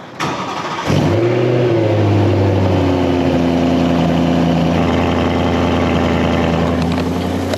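Cold start of a naturally aspirated BMW V8, from an 850i E31 or 550i E60: starter whir, then a sharp catch into a loud high-revving flare that settles into a steady, busy fast idle close by.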